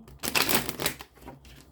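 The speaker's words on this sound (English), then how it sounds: "One more shuffle, Gemini." Tarot cards being shuffled by hand, a quick papery riffle of flicking and slapping cards in two short bursts, close and fairly quiet.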